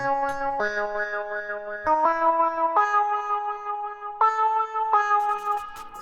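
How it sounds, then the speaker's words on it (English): A looped synth-like line of sustained tones stepping from note to note in FL Studio 20, colored by a sweeping expand wah filter effect. "I got this expand wah playing."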